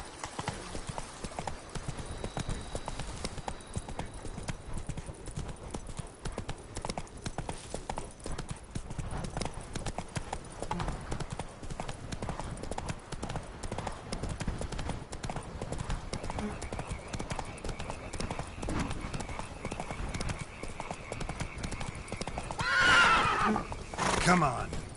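Video game horse Roach galloping, with a dense, fast run of hoof clip-clops throughout and a neigh near the end, under a player's occasional voice.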